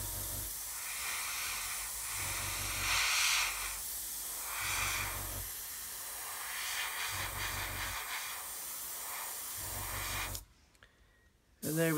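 Airbrush spraying paint onto a model kit during a masked paint job, a steady close hiss running in long bursts with brief pauses, ending in near silence before a final short spurt.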